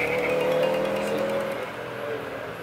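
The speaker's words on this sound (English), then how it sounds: "cette Subaru Impreza, on peut pas s'y tromper." A Subaru Impreza rally car on a timed slalom run, its engine note holding a strained, steady whine that slowly fades as it moves away, with faint tire noise underneath.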